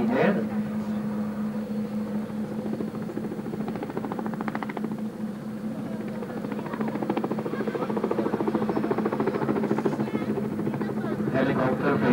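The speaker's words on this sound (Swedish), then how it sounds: "Det er et ganske tung helikopter, så det er svårt å manøvrere den." Steady droning rotor and engine roar of a helicopter, loud and continuous, with a faint voice talking over it.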